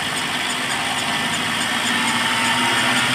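Car engine held at a raised rev during sensor testing with a sensor tester, a loud steady droning hum with a rough vibrating edge that swells slightly toward the end.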